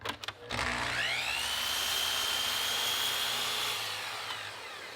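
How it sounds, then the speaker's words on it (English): A power saw cuts through a wooden board for door casing, a steady whining roar that rises after a brief start, holds loud and close for several seconds, then eases slightly toward the end. "Now I'll cut the board at 7 inches"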